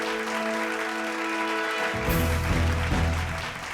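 A stage audience at an Indian celebration honouring carpenters welcomes guest Shailesh Lodha with sustained, loud applause over sustained background music, while a deep bass swell enters partway through.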